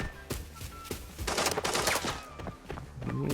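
Bursts of rapid automatic gunfire in the shooter game Arena Breakout, loud and close, with rattling volleys and brief pauses and almost no speech.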